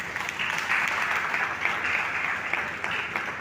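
A church congregation at a Sunday service claps for Jesus Christ, producing a moderately loud, continuous wash of many hands that swells slightly midway and holds steady throughout.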